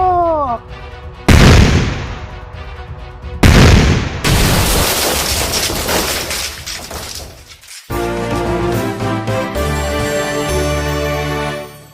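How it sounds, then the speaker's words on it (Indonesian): Police characters fire guns in the Sakura School Simulator video game: two loud, sharp shot bursts followed by a sustained crashing, booming roar and then busy game sounds. "Tembak! Tembak lagi"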